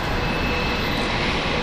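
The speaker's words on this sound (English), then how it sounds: "Boeing 767 Air Niugini." An Air Niugini Boeing 767 jet at Brisbane International Airport gives a loud, steady, broadband jet roar with no clear start or end across the brief moment.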